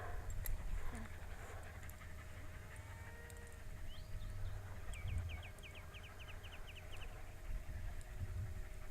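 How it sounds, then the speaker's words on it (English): Rapid, rhythmic panting from dogs, steady and close, with a bird chirping in a short series and a low background hum. "These dogs are really panting hard."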